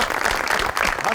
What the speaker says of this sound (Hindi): सनी के लिए तालियां जी।